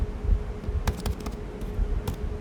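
Keystrokes on a computer keyboard, a few soft scattered clicks over a low background hum, close and fairly quiet with no talking.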